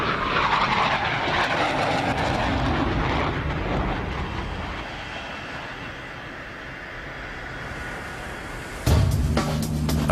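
An F/A-18 fighter jet lands on an aircraft carrier deck, a loud roaring rush of engine noise sustained throughout and easing slightly as it slows, ending with an abrupt heavy thud and clatter.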